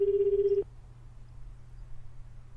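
A single telephone ring in the video game 428: Shibuya Scramble, one steady electronic tone lasting about half a second, then cutting off to a quiet low hum with no answer.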